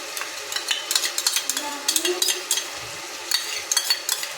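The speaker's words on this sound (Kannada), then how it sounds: "ಸ್ವಲ್ಪ ಎಲ್ಲ ಒಟ್ಟಿಗೆ ಫ್ರೈ ಆಗಲಿ ಆಯಿಲಲ್ಲಿ ಎರಡು ಸ್ಪೂನು ಮೊಸರನ್ನು ಸೇರಿಸ್ಕೊಳ್ತಾ ಇದ್ದೀನಿ" Vegetables and a couple of spoons of yogurt frying in oil for vegetable pulav, with scattered utensil scrapes and clinks as the mix is stirred, fairly close and moderate in level, no voices.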